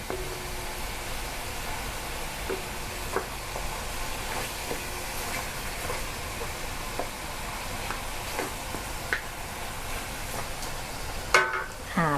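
Pork ribs simmer and sizzle in a pot for a Thai braised pork rib dish, a steady soft bubbling hiss with occasional faint clinks and knocks, and no talk over it.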